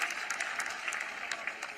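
A crowd claps at an outdoor political public meeting in Haryana, giving a short, steady wash of applause that carries on at moderate loudness with no speech over it.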